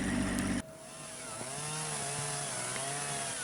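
A chainsaw drones steadily at close range while cutting up a tree set at a comfortable working height, its engine pitch wavering slightly as the chain bites through the wood.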